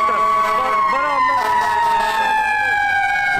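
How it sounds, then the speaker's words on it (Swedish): Fire engine and police car sirens wail through a New York City street, several overlapping tones sliding and sweeping continuously, loud and close, with people talking underneath. "Det här är brandbilar, det är polisbilar, stup i kvarten, varandra."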